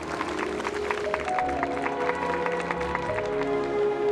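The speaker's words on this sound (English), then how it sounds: "we invite you to express your warmest applause and deepest appreciation for OT Alfalfa" A festival crowd in the Honkai: Star Rail game bursts into dense, sustained applause, with faint tonal music threading through the clapping.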